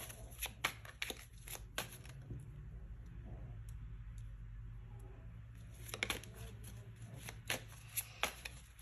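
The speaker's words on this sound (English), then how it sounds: "So I'm going to take out one card for the High Priestess." Tarot cards are shuffled in quick, crisp riffling bursts up close, with a quieter pause in the middle before more flicking and card handling resumes.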